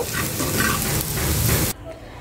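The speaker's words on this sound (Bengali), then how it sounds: "এটা দিয়ে আমি পেঁয়াজটা একটু ভেজে নেব আলুর ভর্তার মধ্যে দেওয়ার জন্য" Onion sizzles loudly in hot mustard oil, a dense, steady crackle that stops abruptly, leaving a quiet room tone.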